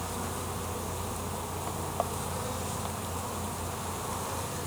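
A dense, steady buzzing of many honey bees close by at an open hive, constant and fairly soft, with no voices.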